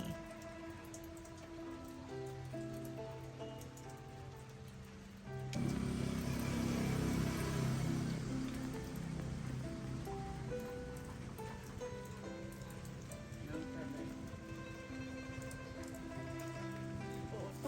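Steady rain falls close by, a dense hiss that swells noticeably about five seconds in and stays heavy, with faint tonal sounds running underneath.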